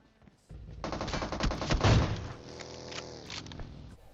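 Gunfire in the PUBG Mobile battle-royale game: a dense, loud burst of rapid shots close by, rolling on for about three and a half seconds after a brief quiet start.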